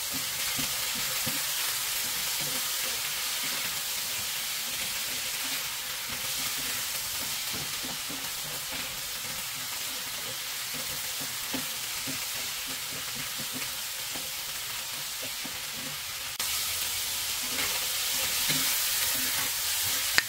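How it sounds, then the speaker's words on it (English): Chicken and bell pepper stir-frying in a cast iron pan, a steady loud sizzle with scraping stir noises running throughout and swelling slightly near the end, no voices. "2 minutes of continuous stir-fry followed by 1 minute of cover with the lid"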